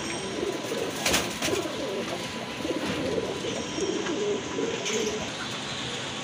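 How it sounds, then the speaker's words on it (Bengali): A pair of blue Rajgolla pigeons coo in soft, repeated, throaty rolls, fairly near, over a constant low background noise. "এক জোড়া ব্লু কালারের ভিতরে রাজগোল্লা কবুতর রয়েছে, খুবই সুন্দর ডাকে"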